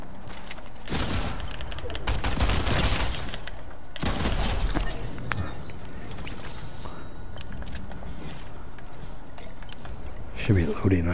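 Rapid bursts of shotgun fire in a video game, loud and repeated in clusters through the first half, with mechanical clatter and game effects continuing under a player talking.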